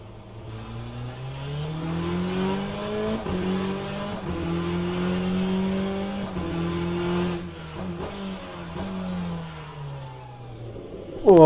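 A GTE race car in Le Mans Ultimate roars steadily as it drives, the engine note climbing and dropping through gear changes for about eleven seconds, loud and close, with a faint tyre squeal near the end.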